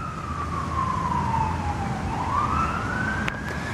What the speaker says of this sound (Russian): Скажите, я сейчас слышу сирену.